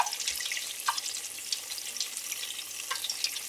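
Cheeseburger lumpia crackling in hot oil in a pan as the rolls are flipped, a steady bright sizzle with small pops and a few soft clinks, heard close up.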